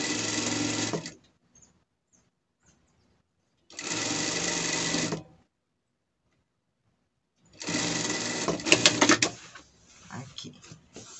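A sewing machine stitches fabric for a pet carrier bag in three bursts of steady whirring, each a second or more long, separated by quiet pauses, with faint handling clicks toward the end.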